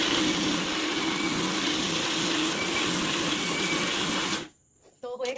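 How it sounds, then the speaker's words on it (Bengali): A mixer grinder whirring through chicken for momo filling, a loud steady motor roar with gritty churning that runs for over four seconds before cutting off abruptly, followed by a brief clatter and a voice. "মিক্সিতে হচ্ছে এটা বসিয়ে"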